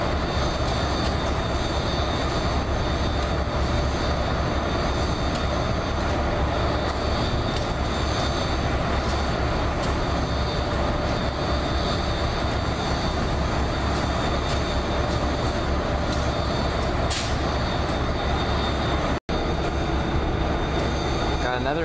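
An inbound Amtrak regional passenger train led by an AEM7 electric locomotive rolls past at close range, producing a loud, steady rumble and wheel noise for over twenty seconds with a brief squeal near the end.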